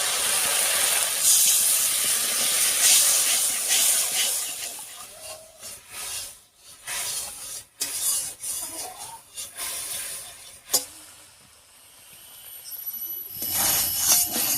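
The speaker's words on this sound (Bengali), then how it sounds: "এবারে দিয়ে দিচ্ছি মশলা বাটা জল।" Spiced paste water poured into a frying masala for a Bengali vegetarian brinjal curry, giving steady hissing sizzle that rises and falls with brief quieter gaps, then swells again near the end, with no talking.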